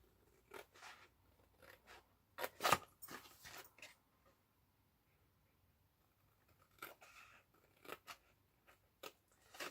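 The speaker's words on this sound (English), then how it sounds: "cut down each of the straight lines through the first score line down to the second" Scissors cutting down straight lines through score lines in paper or card, a scattered series of quiet close snips and crunches with pauses between bursts.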